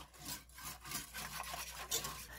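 Milk is whisked in a pot as it heats toward scalding temperature for homemade yogurt, making faint, continuous scraping and swishing strokes in an uneven rhythm.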